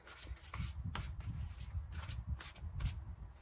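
Oracle cards being shuffled by hand, close and fairly quiet, with repeated riffling and rubbing bursts in an uneven rhythm and no one speaking.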